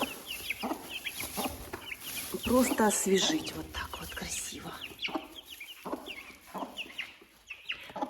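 Chicks cluck and peep in a small group on fresh bedding, a busy run of light chirping calls, with a person talking over them partway through.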